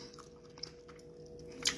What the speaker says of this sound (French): Vous voyez comme ça, le croqueur d'os du poisson.